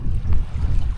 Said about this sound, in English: There's enough wind that I'm not even sweating